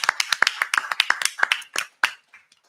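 Scattered, uneven hand claps from a small audience applauding the candidates at the close of a Sandusky City Commission election forum, a dozen or so sharp claps thinning out toward the end.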